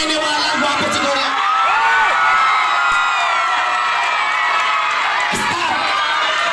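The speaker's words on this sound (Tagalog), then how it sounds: "Sumigaw ang naniniwalang gwapo si Kuya." A crowd of people, children among them, shouting and cheering together loudly and continuously at a lively gathering, with a brief swell of cries near the end.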